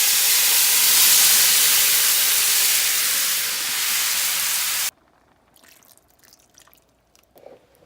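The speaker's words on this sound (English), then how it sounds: "Pan is pretty hot. And I'm just gonna dump everything in at once." Seafood tipped all at once into a hot oiled pan gives a loud, dense sizzle that hisses steadily for about five seconds, then cuts off abruptly, leaving faint clatter and quiet kitchen sounds.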